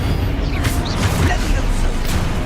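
A Confringo fire-blast spell goes off in Hogwarts Legacy, a dense rumbling burst amid continuous game noise and scattered spell effects over a low, booming bed.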